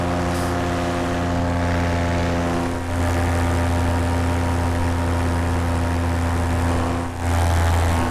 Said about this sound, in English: Maybe you'll see that plane on the runway or landing, I'm not sure which.